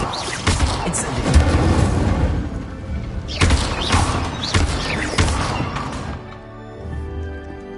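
An Incendio fire spell is cast in the Hogwarts Legacy video game, with loud whooshing bursts and booming impacts in quick succession, then a quieter fading tail.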